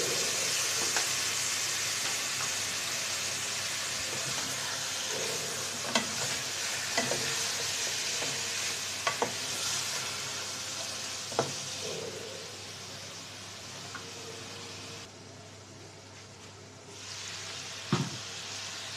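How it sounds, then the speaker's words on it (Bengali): Pangas fish pieces fry in hot oil, with a steady close sizzle broken by scattered clinks and scrapes of stirring. "মাছগুলো কষিয়ে নিয়েছি ভালো করে"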